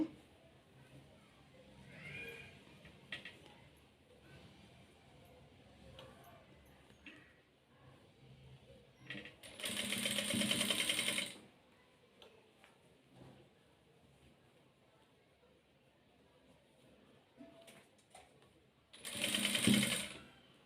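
A sewing machine stitches a boat neck blouse in two short, loud bursts of rapid whirring separated by a long stretch of quiet handling and faint ticking.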